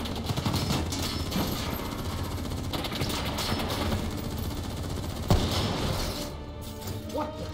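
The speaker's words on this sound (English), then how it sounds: "What the hell? Who's shooting?" Sustained gunfire from Call of Duty: Black Ops III's "In Darkness" campaign mission, dense rattling bursts running the whole stretch with one louder crack near the end, loud and close.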